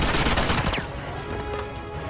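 A short, loud burst of rapid automatic gunfire in the action game Uncharted 2, close and dense, quickly fading into a lower rumble of distant shots.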